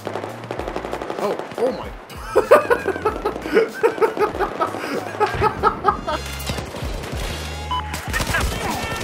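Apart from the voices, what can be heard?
gunfire in Battlefield 4 video game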